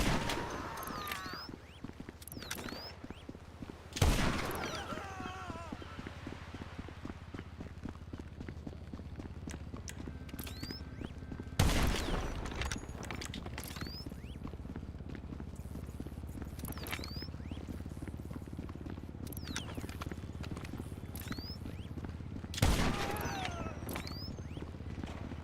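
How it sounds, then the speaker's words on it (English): GTA V Online gunfire gives three loud, sharp shots spread across a long stretch, over a steady background of rhythmic in-game clopping and ambient noise. "Who's that shooting?"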